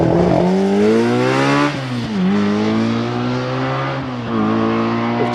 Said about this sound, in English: Andrew Russell is away in the Ginetta as the Mini Cooper comes through the S's.